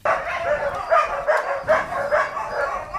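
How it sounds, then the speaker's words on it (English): Several dogs inside an animal shelter bark repeatedly in a steady run of overlapping yaps and barks, close by and moderately loud, with no talk. "these carnivorous animals barking at us as soon as we made our way inside the shelter."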